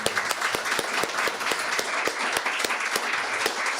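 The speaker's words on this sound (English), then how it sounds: "One more round of applause for everybody." Audience at a poetry press anniversary event giving a round of applause, dense steady clapping from a crowd with a few sharper nearby claps standing out, sustained throughout.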